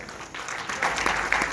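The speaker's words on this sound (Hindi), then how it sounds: "इनके लिए बहुत सी तालियां।" Audience clapping at a Pakistani movie launch ceremony, a steady dense applause building slightly louder partway through and sustained throughout.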